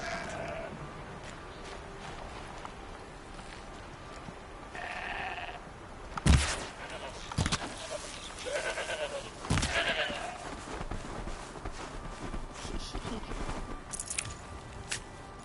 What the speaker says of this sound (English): Ooh, goat.